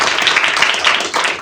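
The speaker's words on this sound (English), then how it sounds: "Can we please get a huge round of applause for Dr." A huge round of applause from an audience at a nutrition talk, dense rapid clapping filling the room, loud and continuous throughout a short burst.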